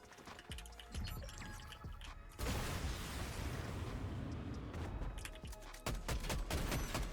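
In the Fortnite video game, guided RPG rockets fire, followed by rapid bursts of gunfire, a long roaring explosion in the middle and more sharp blasts near the end, all loud and close.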